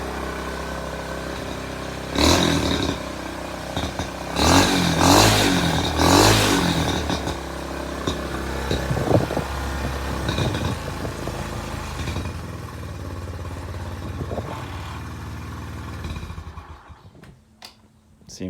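A Honda Trail 90 motorcycle fitted with an ATC 125M engine runs close by, a steady small-engine idle with several blips of revving near the start, then it shuts off near the end.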